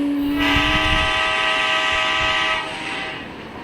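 A loud train horn blares steadily over rumbling rail noise, then fades slightly toward the end.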